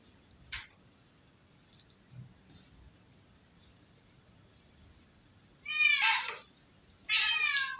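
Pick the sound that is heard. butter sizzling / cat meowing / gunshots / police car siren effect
cat meowing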